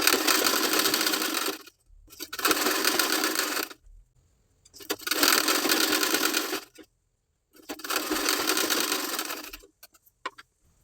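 Sewing machine stitching along the border of a blouse, four even bursts of quick whirring needle chatter up close, each followed by a short silent gap and a faint click, with no speech.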